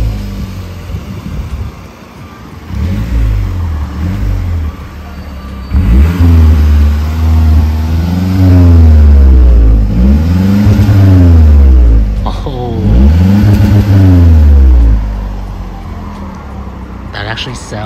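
A turbocharged car on its stock exhaust is revved several times in close succession, each rise and fall of the engine loud and near with a faint turbo whoosh, while people talk over it.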